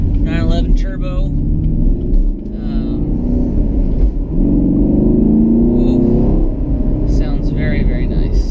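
A 2016 Chevrolet Camaro SS engine gives a deep, loud, close rumble with a few throttle blips and rising revs, and someone talks over it in places.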